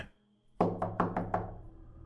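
Five heavy knocks land on a front door at night in quick, slightly uneven succession after a brief quiet, each a solid thud ringing briefly, fairly close.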